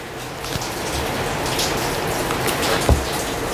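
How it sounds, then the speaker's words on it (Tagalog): Steady rain pours down close by, a dense, even hiss of drops on surfaces with a few heavier splashes, and no voices. "Muulan na naman dito guys sa amin."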